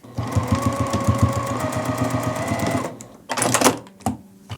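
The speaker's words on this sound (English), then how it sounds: "We're going to take this to our machine and sew down these raw edges using a 1/4 inch seam allowance." A sewing machine stitching down the raw edges of a tulip tote bag with a quarter-inch seam allowance, a rapid, rhythmic close-up chatter for about three seconds, then stopping with a few handling clicks and rustles.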